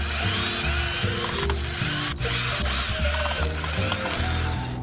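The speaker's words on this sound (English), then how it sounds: "So we're gonna take these screws out, take these screws out" Screws come out of a Honda Civic instrument cluster with steady, clicking ratchet and whirring driver sounds, close and continuous, a few short pauses breaking the mechanical chatter.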